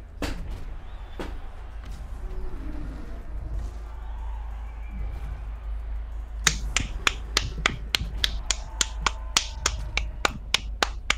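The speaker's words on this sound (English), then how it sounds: "Why are you clapping, Omega?" Sharp, close claps from a single person during a livestream, starting after a stretch of quieter room sound and then repeating in a quick, fairly regular series of distinct slaps.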